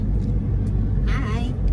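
Steady low rumble of a car driving on the road toward Ortigas with Papa at the wheel, heard from inside the cabin, with a brief higher whine and a faint voice in the background.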